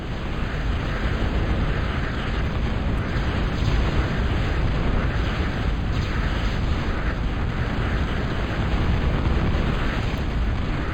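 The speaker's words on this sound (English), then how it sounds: "this bombing run is actually pretty easy to do" Bombs from a bombing run in a real-time strategy game explode over a pass as a continuous, dense roar of blasts. The rumble stays loud and steady throughout, with no talk.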